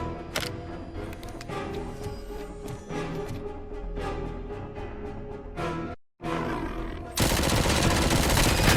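Gunfire from the ED-209 enforcement robot in the RoboCop Rogue City video game: dense, loud rapid bursts with heavy low rumble, a brief silent gap, then a sustained roaring blast of noise.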